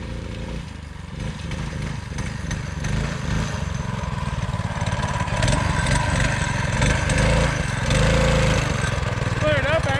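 Rebuilt engine on a Manco Dingo go-kart runs loud and close, cutting out and surging unevenly at full throttle, with people talking over the motor.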